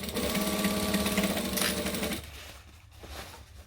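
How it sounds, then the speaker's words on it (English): A sewing machine runs steadily and loud, stitching a straight edge of fabric, its motor whirring evenly before slowing and stopping near the end. "I'm going to sew just the straight edge"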